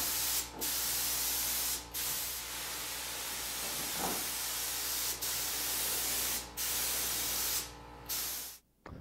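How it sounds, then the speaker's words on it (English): A spray gun sprays toner onto a door in a continuous close, loud hiss, broken by several brief pauses between passes before cutting off sharply at the end. "hook up my gun and spray some more"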